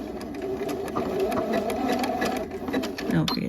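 A sewing machine stitches a jogger side seam with a back stitch, running in a steady rapid needle rhythm close by, with a brief change near the end as it reverses, while a person talks over it.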